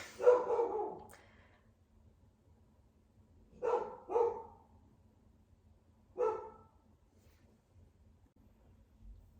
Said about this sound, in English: So I knew it was going to be like a 10-minute barking